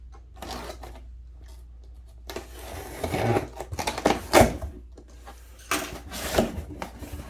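A cardboard shipping box holding a SNEED-JET Titan T6 inline conversion kit is cut open up close, with intermittent scraping, rasping and tearing bursts that grow louder and busier midway, with no talk.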